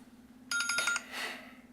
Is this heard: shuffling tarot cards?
no